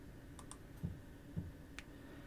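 Mouse clicks on an OK button in Microsoft PowerPoint: a few soft, quiet clicks spaced about half a second apart over a faint room hiss.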